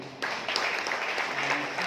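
An audience at a business meeting in Chhatrapati Sambhajinagar bursts into applause, a dense wash of many hands clapping that starts abruptly and carries on steadily for a couple of seconds.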